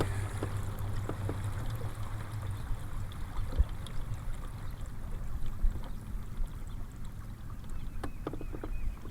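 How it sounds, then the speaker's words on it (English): Kayak moving under a trolling motor on its lowest setting, a steady low hum with water lapping and trickling along the hull and a few faint knocks, no talking. "This is cruising along on number 1 setting on the trolling motor."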